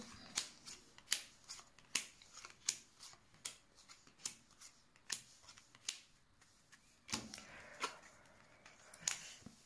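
Tarot cards are shuffled and drawn, making a string of crisp, papery snaps and flicks at an uneven rhythm, close up and fairly quiet, with no voices.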